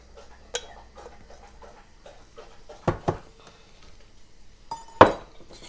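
Spoon scraping and clinking against a pot while two cups of granulated sugar are stirred into caramel, a few sharp metallic clinks standing out over quieter scraping.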